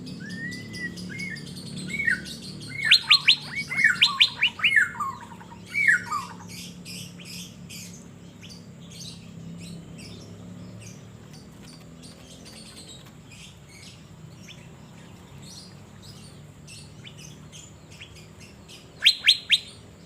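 A caged blue-winged leafbird (cucak biru) being sunned outdoors in Banjarmasin sings in bright, rapid bursts of chirps and whistles for the first several seconds, goes quiet, then gives a short final burst near the end.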